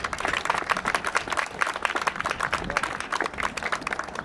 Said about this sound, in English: I think they deserve a hand clap